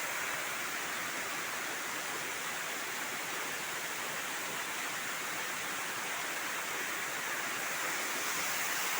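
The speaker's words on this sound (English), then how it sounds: "The waterfall is so wonderful and beautiful. It's coming from the top of the hill." A waterfall pouring down from the top of a hill, a steady, dense roar of rushing water that holds constant throughout with no voices.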